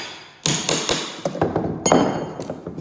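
A pry bar strikes and levers a carpet strip nail out of a wood floor, making a series of sharp, close metallic knocks and thunks with brief ringing, loud and uneven in rhythm.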